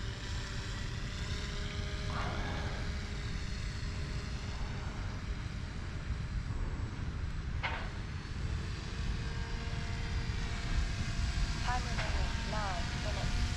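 A paramotor's propeller engine drones steadily overhead as the aircraft climbs into the wind, a continuous loud buzz throughout with faint background noise.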